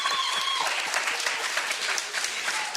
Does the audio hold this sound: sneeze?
no